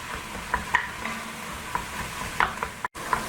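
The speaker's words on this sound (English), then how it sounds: "we're going to brown this until it's cooked through" Ground turkey browns in a pan for a turkey, zucchini and squash stew, with a soft, quiet sizzle and scattered light clicks and scrapes of a utensil stirring the meat.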